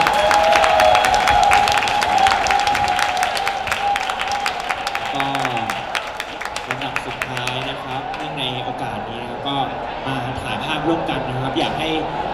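A crowd claps and cheers for the Thai idol group Magical at an Idol Expo event at Bitec Bangna. The applause starts loud and dense, then thins out while someone talks over it on a loudspeaker.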